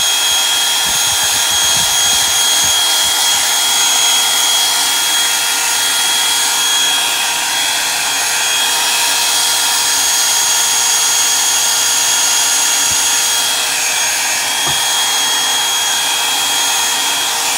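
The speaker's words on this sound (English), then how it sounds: "I'm gonna hit this with a blow dryer real quick." A blow dryer runs continuously, a loud, steady, high-pitched whir drying a bird house, held close for a long stretch with slight shifts in tone and a few faint knocks.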